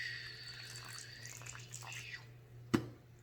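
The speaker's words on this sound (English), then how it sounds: "I'm going to take this and put half a cup of warm water right into the bowl." Warm water poured from a cup into a mixing bowl while making edible slime, a soft steady trickle running for about two seconds over a low hum, ending with a single clunk.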